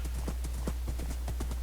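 Horse hooves clip-clop steadily in Minecraft, an even rhythm of hollow knocks over a constant low game hum, near and alone with no talk.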